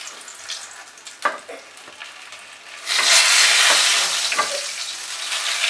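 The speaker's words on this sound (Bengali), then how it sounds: "ঢাকা দিয়ে দিয়ে আমি বেগুনগুলোকে ভেজে নেব, তাহলে তাড়াতাড়ি হয়ে যাবে।" Eggplant pieces fry in oil in a kadai, starting as a quiet crackle with a few louder pops, then swelling into a loud, steady sizzle about halfway through, with no voices.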